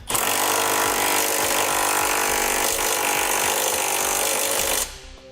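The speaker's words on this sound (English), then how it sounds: "Now I'm going to come back with a 19mm socket and snug up all my hardware." A power tool fitted with a 19mm socket snugs the bolts of a Curt trailer hitch on a 2017 Ford Explorer, whining loud and continuous with a rattling, buzzing drive for about five seconds before cutting off abruptly.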